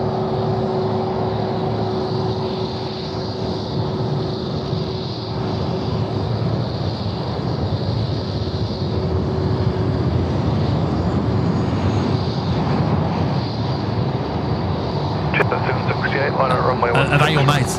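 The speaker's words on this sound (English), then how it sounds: "The Emirates coming down." An Emirates airliner lands at Sydney Airport at night, a broad steady jet roar rumbling at a distance while people talk nearby, with brief clatter near the end.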